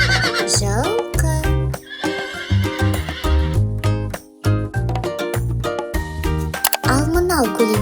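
Horse whinnies, one early and one near the end, ring out over a lively musical accompaniment with a steady pulse, the animal calls close and clear between the beats.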